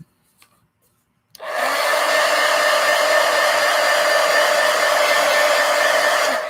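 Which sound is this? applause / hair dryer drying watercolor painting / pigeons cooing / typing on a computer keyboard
hair dryer drying watercolor painting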